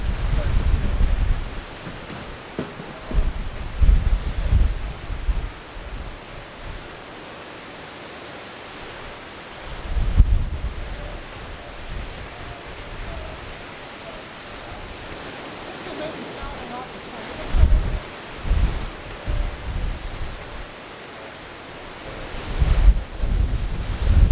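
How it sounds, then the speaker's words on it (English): Strong storm wind gusting at an air force base, with dust blowing, roaring and buffeting the microphone in loud rumbling surges around 10, 17 and 23 seconds over a steady broadband rush. "it's just a lot of wind going on right now"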